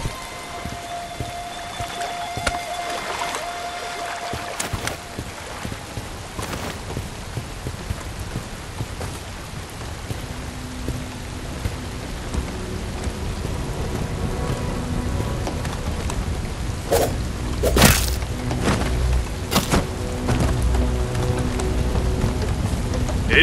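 Steady rain hissing over the scene in the video game Bright Memory: Infinite, dense and continuous, growing heavier partway through, with occasional sharp game clicks and tones layered on top.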